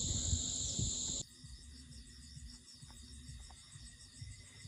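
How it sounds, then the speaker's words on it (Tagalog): Crickets chirp in a fast, continuous trill on a quiet night in a farmhouse yard, preceded briefly by a louder burst of noise that cuts off abruptly. "Narinig ninyo ang mga kuliglig?"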